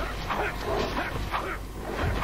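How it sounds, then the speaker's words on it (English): Video game dogs bark in repeated sharp bursts over a steady loud game soundtrack, coming one after another in quick succession. "here come the dogs again"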